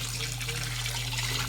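Clear filtered water runs in a soft, steady trickle, faint and continuous for a brief moment.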